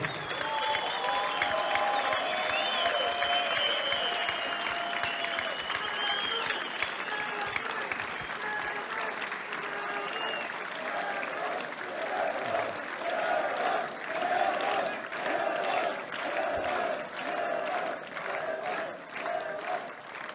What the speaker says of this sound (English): please stand up and give a round of applause for No Limits Devon Larratt of Canada.